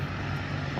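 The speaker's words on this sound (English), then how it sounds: "that noise is a plane taking off in the background over there" Distant aircraft engine noise from a plane taking off, a steady low roar that runs without pause and has no talking over it.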